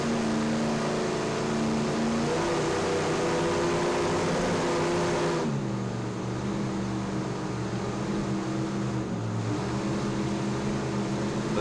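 An offshore racing powerboat's engines drone loud and steady from on board during a parade lap at the Ocean City Grand Prix, with a dip in engine pitch about halfway through.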